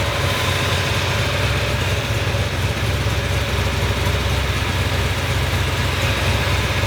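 A car engine runs steadily on its first start after a build, a continuous loud low rumble with even idle tone throughout, close by and with no voices.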